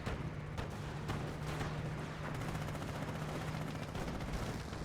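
Tank gunfire and battle noise from Company of Heroes rumbles on without a break, with repeated cannon and gun reports over a dense, steady wash of combat sound.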